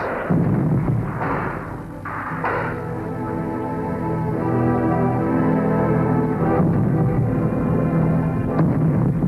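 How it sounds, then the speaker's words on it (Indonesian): Heavy artillery booms and rumbles in a cannon duel between Indonesian TKR guns and British artillery at the Battle of Surabaya, several sharp blasts early on giving way to a sustained, rolling roar of distant cannon fire. "Juga terjadi duel meriam TKR dan artileri Inggris."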